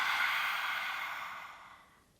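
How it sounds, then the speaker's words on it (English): A forceful, breathy yoga lion's breath exhale, one long open-mouthed rush of air that starts strong and fades away over about two seconds, close and alone. "And exhale your lion's breath."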